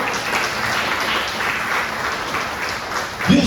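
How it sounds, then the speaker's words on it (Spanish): Church congregation giving dense, sustained applause that stays loud and even throughout, with a faint low voice near the end. "Dale un fuerte aplauso al Señor."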